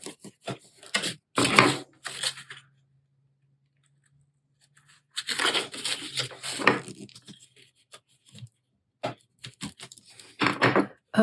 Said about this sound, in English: Fold this one up. And then fold these back. And go ahead and burnish them.